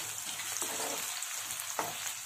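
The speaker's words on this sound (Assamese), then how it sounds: "পিঁয়াজখিনি অকণমান ৰঙচুৱা হোৱাকৈ ভাজি ল'ব" Finely chopped onions fry in a pan with cumin seeds, bay leaf, cardamom, cloves and cinnamon, giving a steady soft sizzle with occasional stirring scrapes.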